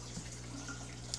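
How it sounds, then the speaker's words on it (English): Water runs steadily through the drain pipe of a fish room's automatic water change system, a soft continuous trickle and wash under a low mechanical hum, with a brief splash near the end. "as the water fills, it travels through here and on out the drain"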